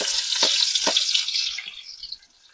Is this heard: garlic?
yes